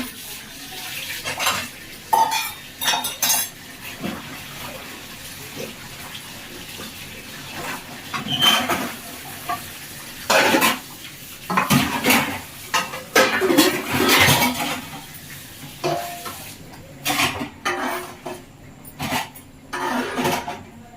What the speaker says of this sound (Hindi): अभी बर्तन साफ कर रही हूँ, बर्तन साफ करके फिर आपसे मिलती हूँ